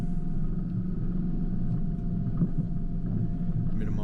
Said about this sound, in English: Just keep it in low range and let your engine braking help you out.